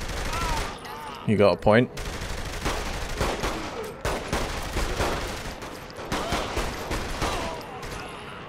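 Rapid bursts of gunfire from shooting in Saints Row The Third Remastered, a video game, crackle through most of the stretch, with a short louder volley early on and a voice speaking briefly over the shots.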